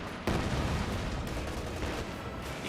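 Dense, continuous gunfire from a Company of Heroes 2 battle rattles loudly throughout, with overlapping rapid shots and rumbling blasts and no voice over it.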